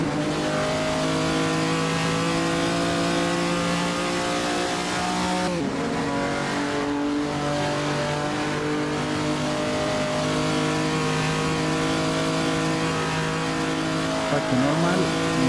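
A postwar race car at the 1948 Prix de Berne in Assetto Corsa, its engine howling loudly and steadily, with sharp drops at gear changes and a faint tire squeal near the end.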